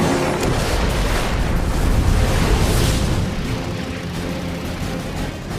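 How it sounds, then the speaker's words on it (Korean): A World War II enemy bomber's fuel tank explodes after fighter gunfire during a kamikaze attack, heard as a loud, sustained roaring blast with rumbling debris that slowly fades over several seconds. "결국 적기의 연료 탱크가 폭발했다."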